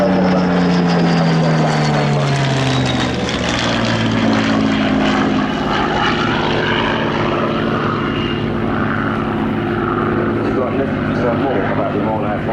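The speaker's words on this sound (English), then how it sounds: "Coming down the hill, the Spitfire gains speed rapidly." A Supermarine Spitfire makes a loud, close flypast as it gains speed diving down a hill. Its propeller engine drone holds steady while the pitch sweeps downward through the pass, and a commentator talks over it.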